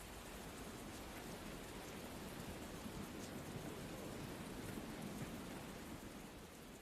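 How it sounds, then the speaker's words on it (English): Heavy rain pours down steadily in the video game Tales of Berseria, a dense, unbroken hiss of downpour that stays even and fairly quiet throughout with no voices. "Rain was pouring as if from buckets"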